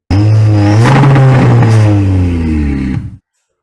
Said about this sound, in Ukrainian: ви хочете отримати якісний звук вихлопної системи